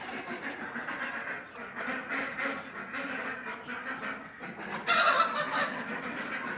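A flock of backyard chickens eats just after being fed, giving a steady, busy chorus of clucks, quacky calls and pecking close by, with a louder burst of squawking near the end and no clear talk.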